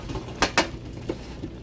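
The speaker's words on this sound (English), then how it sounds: "What you're going to do is just turn your croutons out onto the pan" Homemade croutons tumble out onto a metal baking pan, giving two quick, bright rattling clatters followed by a couple of lighter taps as pieces settle.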